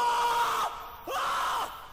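A man screams in two drawn-out, strained bursts with a brief break between them, loud and close, with no other sounds.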